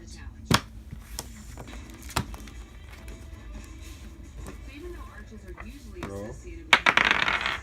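Magic: The Gathering cards shuffled and cut on a tabletop: a few sharp taps and snaps early on, then a louder papery riffle burst near the end, with a voice speaking quietly in between.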